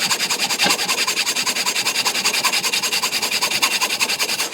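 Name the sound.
hand-cutting a piece of wood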